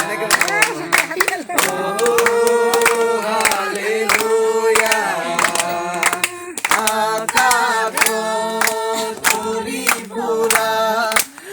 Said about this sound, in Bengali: হাততালি মাৰিব আপোনালোক